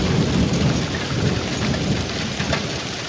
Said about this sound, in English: I've never seen hailstones that big before.